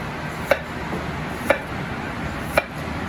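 Knife slicing a potato into thin slices on a board, three sharp separate chops spaced about a second apart over quiet kitchen background.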